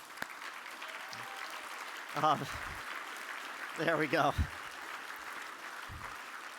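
Audience applause at a museum gala dinner, a steady wash of clapping from a seated crowd, with someone speaking briefly over it in two short bursts.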